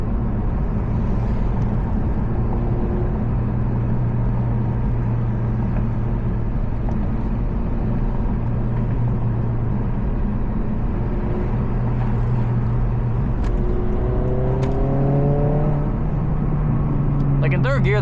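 A tuned Honda Civic Si accelerates through the gears on a city street, its engine a loud, steady drone heard from inside the cabin, rising in pitch toward the end.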